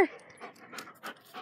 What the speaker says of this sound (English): you want to see what my weenie dog does when he's mad at people?